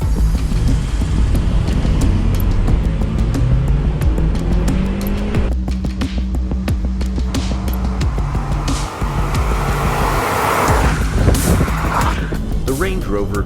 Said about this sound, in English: someone had the brilliant idea to drag race the Range Rover against our Project Audi